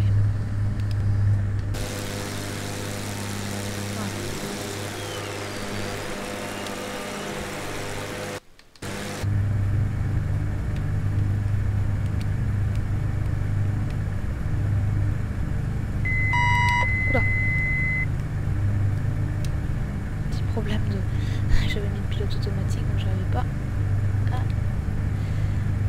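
Steady twin-engine drone of a Beechcraft Baron 58 in Flight Simulator X, climbing out of Lyon toward Chambéry, with a short break midway and a few electronic beeps near the end.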